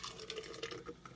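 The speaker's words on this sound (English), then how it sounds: "you can watch me pour it in my cup" A raspberry, banana and chia smoothie poured into a cup, a soft, close liquid glugging and trickling with small splashy bursts that continue briefly.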